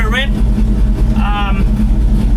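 A GMC Sierra pickup fitted with a swapped-in 6-speed transmission drives with a loud, steady engine drone, a voice speaking briefly over it.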